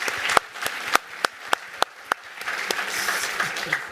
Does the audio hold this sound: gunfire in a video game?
no